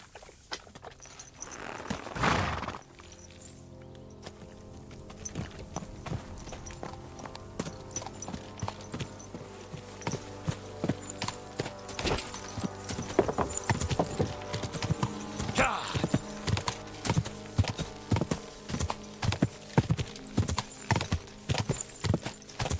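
Horse hooves clip-clop steadily in the medieval video game Kingdom Come: Deliverance II, a close rhythmic walking beat that grows more regular, with a brief whinny-like sound and occasional game effects.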